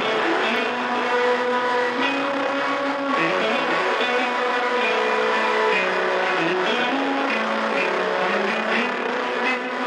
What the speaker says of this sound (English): this is what that guitar solo sounds like